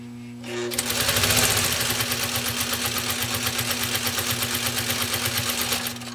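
A 1956 Singer 301A sewing machine stitching through six layers of upholstery material, its motor spinning up then running a fast, steady, loud needle chatter for several seconds before stopping.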